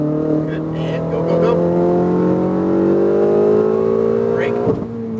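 A car accelerates hard on a closed racing track at Speed Vegas, its engine note rising steadily and loud, with a brief squeal near the end.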